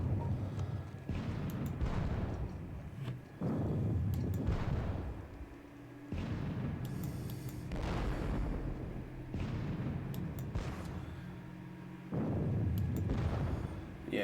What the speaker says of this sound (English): The Oxfords getting shot up by cannon fire.